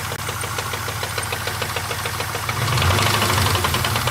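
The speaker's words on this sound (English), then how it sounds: "there typically is a little bit of noise, maybe a little bit of piston slap and other engine noises." A C5 Corvette's LS V8 on a cold start clatters with a rapid, even ticking knock like piston slap, close and steady, and its tone deepens as the revs rise partway through.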